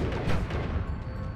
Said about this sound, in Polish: Teraz wybuchło.